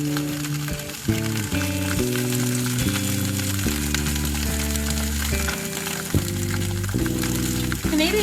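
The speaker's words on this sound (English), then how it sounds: "we're going to take the Canadian bacon and lay it down into a skillet on medium-high heat" Canadian bacon sizzles in a skillet over medium-high heat, a continuous hissing fry running steadily beneath a louder backing of music with stepped melodic notes throughout.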